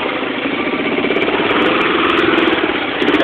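An ATV engine idling while shifting into reverse, a close, loud, steady mid-pitched rumble with a slight knocking pulse and no talking.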